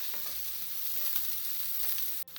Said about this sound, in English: Now let the onions fry for 2 to 3 minutes till they get soft.